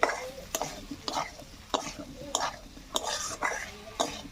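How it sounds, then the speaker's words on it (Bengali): Fried baby potatoes sautéed with red chili powder in a pan, a spatula scraping and knocking in a steady rhythm of about two strokes per second over a light sizzle, close by. "ভেজে রাখা আলুটা দিয়ে দেবো, দিয়ে আমি ভালো করে কষে নেব।"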